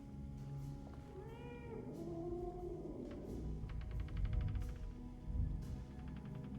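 Cats in the 2024 Alone in the Dark game meow in a house kitchen, a couple of drawn-out, pitch-sliding cries over a low, murky ambient rumble with a faint rhythmic clicking.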